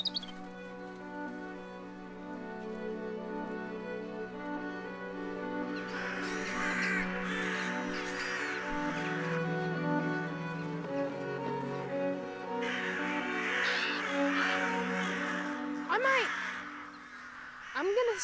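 Crows and rooks caw repeatedly in a farmland scene, harsh calls rising in two bursts over a steady musical background, with brief bits of talk nearby.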